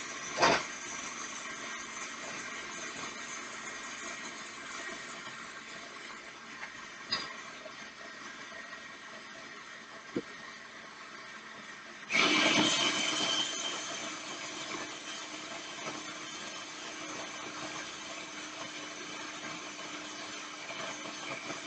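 A thick chickpea and black bean vegan meatball mixture is mixed with a steady, low motor-like whir throughout. The whir grows noticeably louder partway through, with a few soft knocks and no talking.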